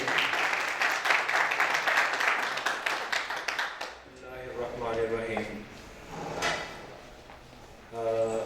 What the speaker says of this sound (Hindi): भरपूर तालियों में इनका इस्तकबाल कीजिए